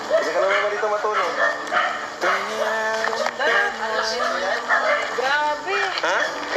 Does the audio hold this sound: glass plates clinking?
no